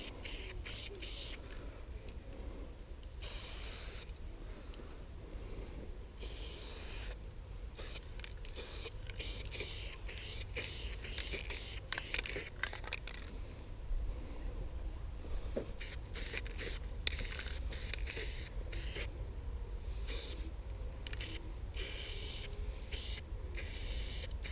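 Spray can of graffiti paint hissing in repeated short and long bursts against a wall, fairly quiet and close, with gaps between passes and no talking.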